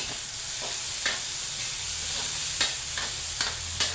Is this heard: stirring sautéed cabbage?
yes